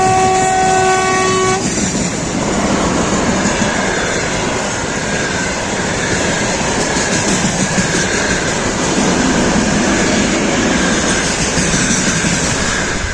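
A freight train thunders past close by, opening with a blaring horn, then a steady loud roar of rolling wagons and rhythmic wheel clatter.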